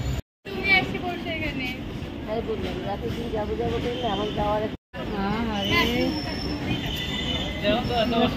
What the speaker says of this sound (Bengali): সামনে ট্রেন আসছে, তো এখন উঠবো আমরা